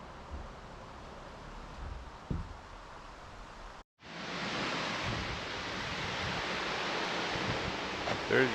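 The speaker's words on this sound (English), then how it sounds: "You can really hear the water running. That's a little stream." A small stream near Copper Harbor on Lake Superior runs as a steady rushing hiss. It drops out briefly partway through, then returns louder and fuller, continuing without pause.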